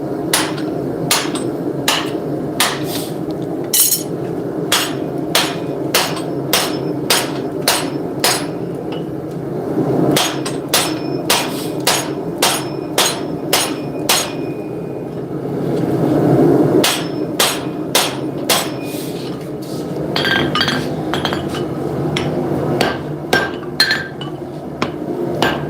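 Hammer striking a punch at a forge while shaping a tomahawk, loud sharp metallic blows in a steady rhythm with brief pauses, ringing clinks over a low forge roar, no speech.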